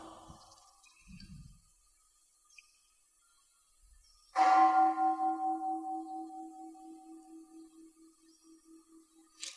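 A single deep Thai temple bell strike rings out after a quiet stretch, its long humming tone pulsing and slowly fading over several seconds.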